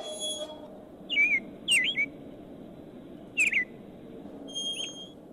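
A pet bird whistles in short, clear rising and falling phrases, two close together, a third after a pause and a fainter one at the end, over a steady low room hum with no talk.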